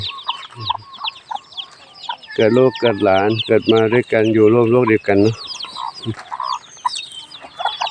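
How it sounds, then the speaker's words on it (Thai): Hens and young chicks cluck and peep at Wat Pong Chai temple grounds, close and lively, in scattered bursts while someone speaks over them. "เป็นร้อยชีวิตแล้วเจ้าไก่น้อยออกมาเยอะแยะเลย"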